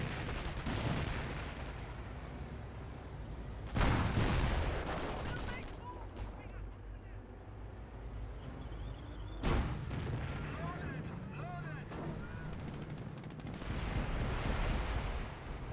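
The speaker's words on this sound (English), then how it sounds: "Five rocket barrage running in." A rocket barrage of artillery fire in Company of Heroes 1 erupts as heavy booming blasts, two big impacts standing out over a continuous rumbling battle din, with a voice talking over the action.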